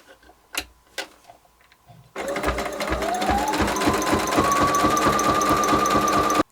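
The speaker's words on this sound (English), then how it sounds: "now set your machine to a pretty wide zigzag, and we are going to zigzag both of these ends" A sewing machine runs a wide zigzag stitch across the ends of a fabric toiletry bag, first a few clicks and taps, then a loud, fast, steady mechanical chatter with a rising motor whine that continues to the end.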